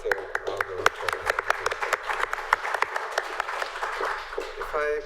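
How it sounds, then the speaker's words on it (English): At an Oxford launch event for a global poverty report, a modest round of distinct, fairly sparse claps rings out, with voices talking underneath. "Just a round of applause"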